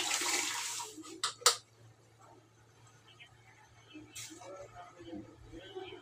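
Boiled cooking water poured into a pot while making festive rasam and curry, a short gush of watery splashing at the start with a couple of sharp clinks, then quiet kitchen sounds under soft talk.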